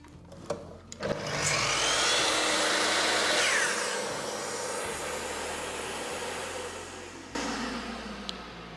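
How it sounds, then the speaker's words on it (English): A dust extractor vacuum linked to a miter saw whirs up after a few clicks, runs as a steady broad roar, then a sharp knock cuts in near the end. "whenever you go to switch or cut with the saw, the vacuum automatically kicks in"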